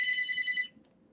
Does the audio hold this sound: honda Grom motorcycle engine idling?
no